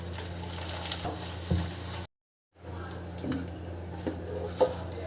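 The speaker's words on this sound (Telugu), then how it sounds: "కార్న్ఫ్లెక్స్ ఫ్రై చేసుకుంటున్నాను." Cornflakes frying in hot oil for a spicy boondi mixture, a steady soft sizzle with occasional stirring clinks, interrupted by a brief silent gap.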